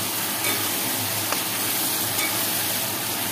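Poppy seed and white mustard paste with sugar cooking in a pan, a steady close sizzle and hiss that holds level throughout, with a faint stir or two and no voices.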